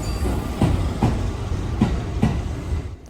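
The Shimakaze premium express train passes close by in Japan. A steady rolling rumble carries a regular clickety-clack of wheels over rail joints, about four distinct beats, with no talk.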